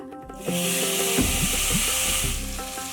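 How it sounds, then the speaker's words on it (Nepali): Boiled amla, Indian gooseberries, dropped into hot oil in a pan, giving a loud steady sizzle and hiss with a few stirring knocks against the pan, no voices. "यतिको फ्राई भएपछि अब यसमा राखेँ उसिनेको अमला"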